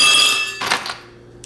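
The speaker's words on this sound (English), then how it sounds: "I'm going to count out these ice cubes." Ice cubes clink into a 20 oz tumbler, a bright glassy ringing impact that fades, followed by a duller knock and a faint final click, close and alone with no voices.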